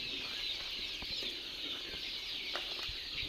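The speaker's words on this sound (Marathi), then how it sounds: "तर हे पहा आपल्या शेडवरती पक्षी कसे खात आहेत." Free-range desi chickens feed in a poultry shed, soft clucks and scattered pecks and rustles over a steady background hiss, fairly faint and without talk.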